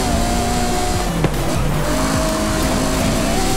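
A 1300-horsepower Ferrari FXX K supercar drives hard in the Forza Horizon 5 video game, its engine a loud, steady roar with squealing, skidding tires as it brakes and corners, with no voices.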